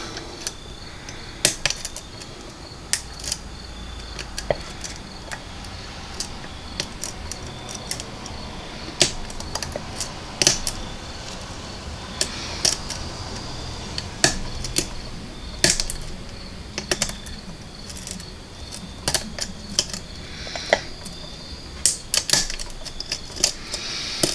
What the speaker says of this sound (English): Put some medium pressure on my tension wrench, and let's see.